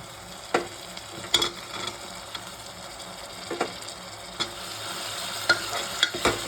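Onion, tomato, peanuts and potato cubes fry in a pan for a spiced khichdi. A continuous hiss carries sharp, scattered clinks and scrapes of a spoon against the metal, close up, with no voices.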